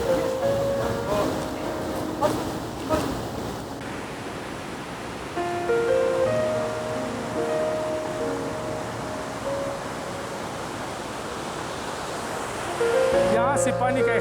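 Katora Lake waterfall in the Kumrat Valley gives a continuous rushing roar of falling water, steady and fairly close. Faint tonal sounds and a voice drift over it at times, and the sound shifts briefly near the end.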